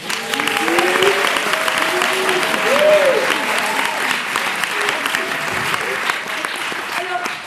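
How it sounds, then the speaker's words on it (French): An audience claps continuously and loudly for students after a school theatre performance in France. The dense, even applause carries on throughout, with a few voices audible in the crowd. "Vous pouvez les applaudir très fort."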